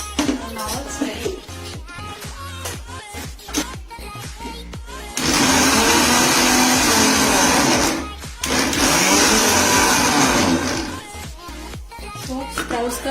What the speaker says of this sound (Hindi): सबसे पहले मैं रेसिपी को तैयार करने के लिए स्प्राउट्स को मिक्सी में घुमाऊंगी